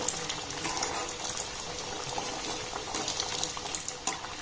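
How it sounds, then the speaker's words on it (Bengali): Wheat-flour biscuits deep frying in oil over a low-medium gas flame, a steady dense bubbling and crackling hiss that holds at an even level throughout, close and continuous with no talking. "গ্যাসের ফ্লেমটাকে লো টু হালকা মিডিয়াম দিয়ে বিস্কিটগুলোকে আমি খুব সুন্দর করে ভেজে নেব।"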